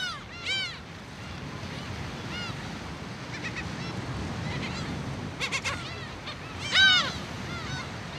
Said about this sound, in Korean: 5월 독도는 괭이 갈매기들의 주인이다.